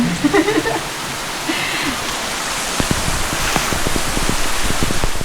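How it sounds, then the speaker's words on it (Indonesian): Steady rain falls at a villa in a tea garden resort in Subang, a dense even hiss with scattered drip taps toward the end and a faint voice near the start. "Ya hujan."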